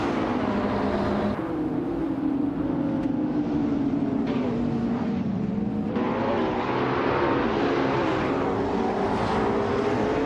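A pack of race cars roars off the line at the start at Seattle Circuit Reverse in a racing game, including a 2019 McLaren 600LT, engines droning loud and dense with shifting pitch throughout.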